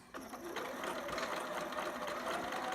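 A sewing machine runs steadily for a couple of seconds, stitching fabric for a two-piece sitter outfit, a continuous close mechanical whir at moderate level with no talking over it.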